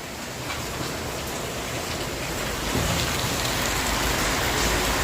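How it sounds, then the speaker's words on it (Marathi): Dense, loud rain roars continuously on a surface, growing slightly heavier partway through, with no voices. "बाहेर पुन्हा पाऊस सुरू झाला आहे"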